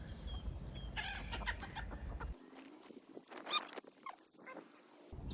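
Chickens clucking on an off-grid egg farm, a few short clucks and calls scattered over steady outdoor background noise, fairly close and moderately loud.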